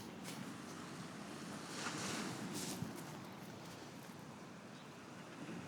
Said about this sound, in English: Oh, big boat waves.